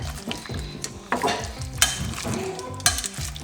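Steak sears over high heat in a pan with avocado oil, giving a continuous close sizzle broken by sharp scraping clicks from a utensil, with a low hum running underneath.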